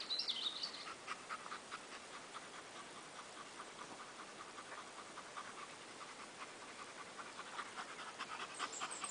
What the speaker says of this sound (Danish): Han puster meget.